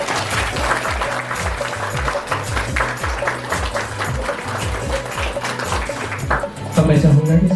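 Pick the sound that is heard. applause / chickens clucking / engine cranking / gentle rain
applause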